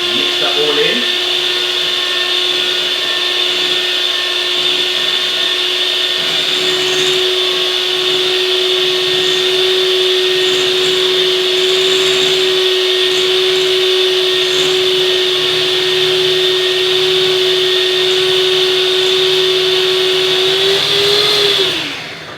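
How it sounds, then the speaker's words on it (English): A whisk blends chocolate and melted butter into brownie batter, heard as a loud, steady motor whine that holds for about twenty seconds before winding down at the end. "And then we'll give that another little whisk there for a few seconds."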